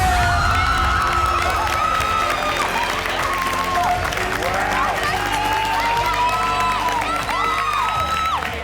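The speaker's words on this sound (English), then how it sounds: "I can hear my wife screaming." Loud crowd cheering, whooping and screaming fills a MasterChef Australia studio as family members react to a judged dish, sustained and dense throughout with high excited shrieks rising above the roar.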